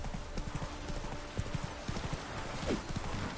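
Roach, the horse in The Witcher 3: Wild Hunt, galloping, its hooves drumming in a steady, rapid clip-clop close up, with a brief whinny and a little background game noise.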